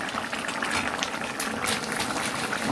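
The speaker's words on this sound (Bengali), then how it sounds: "এবার এটা ভালো করে ফুটুক" A pot of potato and fritter curry boils steadily, its thick bubbling and popping close and constant from start to finish, with no one speaking.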